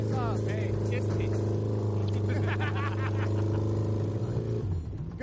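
An improvised boat built from junkyard parts motors across water, its engine humming loudly and steadily up close before cutting out near the end, with voices talking over it.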